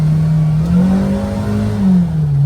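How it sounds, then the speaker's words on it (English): A Kawasaki Ridge off-road vehicle's four-cylinder engine drones steadily up close, its pitch rising and falling slightly as it revs, with no talking over it. "do you hear that thing? That 4-cylinder just wants to run."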